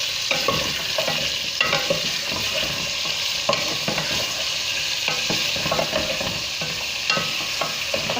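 Chicken with ginger and garlic frying hard over a high flame in a Sindhi tomato chicken dish, a steady loud sizzle broken by repeated stirring scrapes and clacks throughout.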